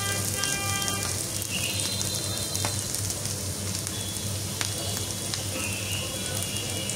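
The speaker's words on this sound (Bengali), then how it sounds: "পেঁয়াজগুলো একটু হালকা হালকা করে ভেজে নিচ্ছি।" Onions fry lightly in a pan for a chicken and chana dal vegetable dish, a constant close sizzle with fine crackling and a few soft scrapes, and no one speaks.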